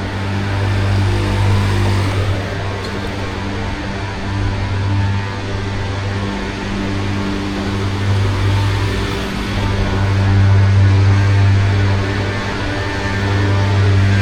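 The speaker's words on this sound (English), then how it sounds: "It's a shame that that truck there is sucking the drain out." A drain-cleaning truck sucks out a drain on a London street, a steady loud low hum and mechanical drone that swells slightly near the end.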